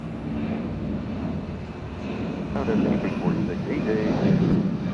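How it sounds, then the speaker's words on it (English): Boeing 757 airliner at Atlanta airport, a distant broadband jet engine roar that swells gradually, heard outdoors with wind buffeting the microphone and a voice talking over it. "Here comes the 757."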